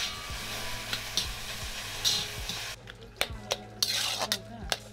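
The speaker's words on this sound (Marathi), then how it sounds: "वांगी पण आपली छान वाफलेली आहेत, व्यवस्थित त्याला स्मॅश करून घेऊयात" Steamed brinjals being mashed in a pot for a festive Maharashtrian thali, with repeated soft squelching presses and scraping clinks of a utensil against metal, close and steady.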